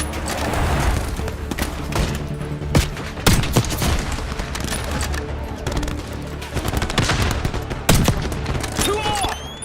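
Gunfire in a Call of Duty Black Ops 6 cutscene, loud rapid bursts and single shots cracking over a dense battle rumble, with shouted voices in places.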